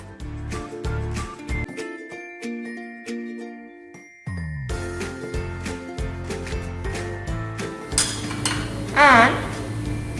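Meat, oil and onion stirred in a pan while cooking stuffed arepas: metallic clinks and scrapes of a utensil against cookware in irregular knocks, with a brief faint voice and a louder sizzle-like rush near the end.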